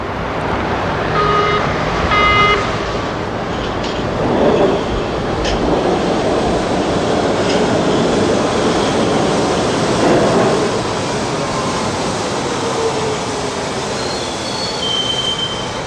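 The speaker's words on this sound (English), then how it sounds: "the Baltimore subway has arrived." A Baltimore Metro subway train from 1983 rolls through loudly, its wheels squealing with high-pitched screeches over a constant close rumble of rail cars that holds steady throughout.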